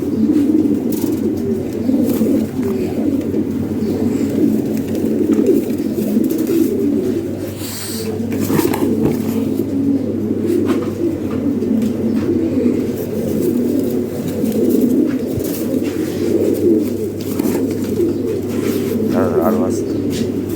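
Pigeons coo continuously at close range while pairs are handed over for delivery, the soft rolling calls running steadily under a voice and handling sounds.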